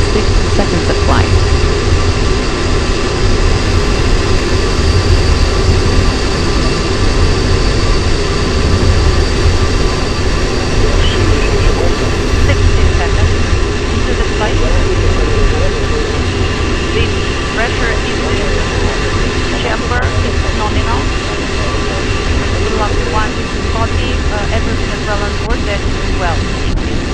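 Soyuz MS-10 rocket engines and four boosters roar in a dense, unbroken rumble during launch, loud and steady throughout, with a broadcast commentator talking over it.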